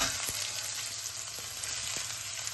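Onion, garlic, ginger and Kashmiri chili frying in oil in a pan, a dense continuous hiss and crackle with a couple of soft stirring taps, close and alone without talk.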